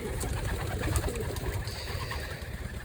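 Pigeons coo softly in low, rolling murmurs amid a busy, rustling background, close by and continuous.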